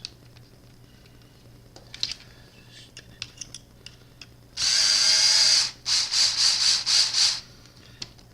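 A power tool whirs loudly for about a second, then in several short bursts, spinning a nut onto a bolt while installing a wheelie bar on an RC car, following quiet clicks and handling noises.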